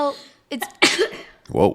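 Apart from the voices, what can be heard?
sneeze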